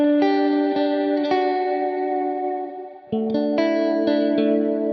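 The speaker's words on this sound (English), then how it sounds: "This is pure reverb happening immediately after the signal hits it." A played tonal instrument phrase, likely guitar, with sustained notes drenched in reverb that starts right on the attack with no pre-delay; loud, continuous chords with a brief dip near the middle before fresh notes ring in.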